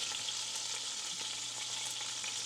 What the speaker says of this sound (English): So I'm going to go ahead and brown this